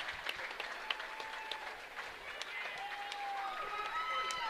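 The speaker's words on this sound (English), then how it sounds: "they just announced it over the loudspeaker, and the crowd goes crazy" A crowd at a live high school basketball game cheers and claps after a loudspeaker announcement, a faint, distant wash of applause and shouting that builds slightly toward the end.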